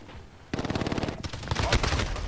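Rapid bursts of automatic gunfire from Call of Duty: Modern Warfare, loud and dense, starting abruptly after a brief quieter lead-in and continuing as a sustained rattling stream with overlapping shots.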